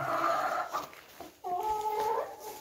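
Hens call out before feeding time, two drawn-out, wavering squawks separated by a short pause, fairly faint and with no talk.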